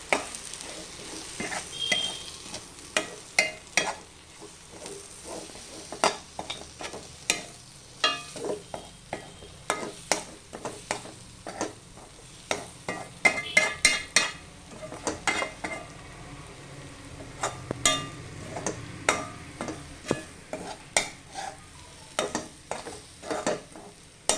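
A utensil scrapes and taps repeatedly against a pan while garam masala and capsicum masala sizzle softly underneath, an irregular stirring rhythm throughout.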